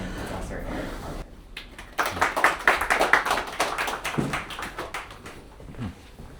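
A small audience at a university lecture applauds to welcome the guest speaker, a short burst of moderately close clapping that fades out after a few seconds.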